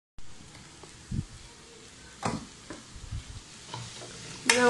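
Ginger and garlic frying in a pot for Kerala-style beef biryani: a soft steady sizzle with several scraping stirs of a spoon and a sharp clatter at the end, close and fairly quiet.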